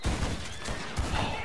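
Rapid bursts of gunfire crack out close and loud in quick succession, shots overlapping into a dense fusillade across the short span.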